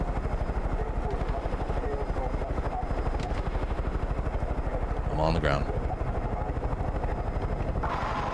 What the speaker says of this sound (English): Uh-oh, there's a helicopter coming.